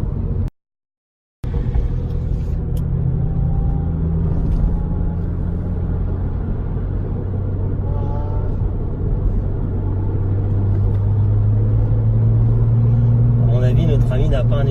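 Lotus Exige sports car fitted with a non-original exhaust, its engine droning steadily under load before rising in pitch as it accelerates, heard from close by, with a brief dropout near the start.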